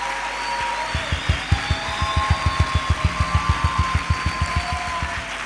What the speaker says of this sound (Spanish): esos aplausos que ustedes dan, quiero decirte que me gustan